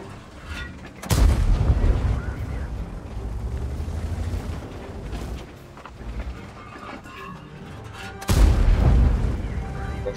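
A cannon shot from the Chinese 121 heavy tank in a tank video game, with two heavy booming blasts a few seconds apart over continuous rumbling battle noise.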